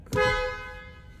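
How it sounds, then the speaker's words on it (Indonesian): A BAIC BJ40 Plus SUV sounds its horn in one loud, steady honk lasting about a second, close by, with a ringing tone that fades out. "klaksonnya seperti ini."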